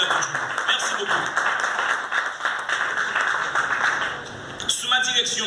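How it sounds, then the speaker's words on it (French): An audience at a national library anniversary ceremony applauding the Minister of Culture, with moderate, steady clapping that eases off near the end as a voice begins. "On applaudit la ministre de la Culture."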